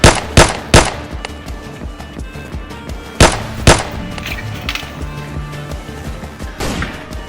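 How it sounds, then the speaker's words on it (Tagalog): Several sharp, loud gunshots crack close by in irregular bursts, a couple fired in quick pairs, with lower clattering and scuffing noise between them. "Putok ng baril yan"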